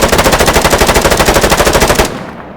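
Rapid sustained automatic fire from an HK416 rifle in ARMA 3 with the RHS mod, a loud, close, evenly spaced burst of roughly twenty shots lasting about two seconds, then a fading echo tail.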